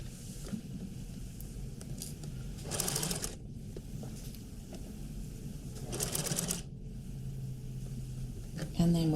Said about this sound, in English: You want to pin this well, and then you're going to sew it